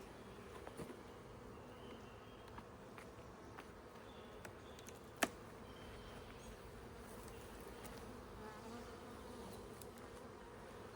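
Honey bees hum steadily inside the brood box of a hive during an inspection for swarm cells. The buzzing is soft and continuous, with an occasional faint click of handling.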